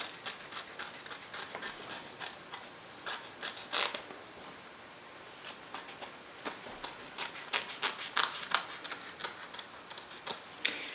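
Scissors snip closely around the stitching of machine-embroidered applique fabric, a quick irregular series of crisp, close cutting clicks with no talking.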